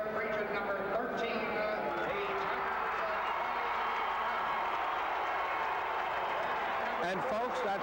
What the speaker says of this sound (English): That's how loud this crowd will be in Freedom Hall.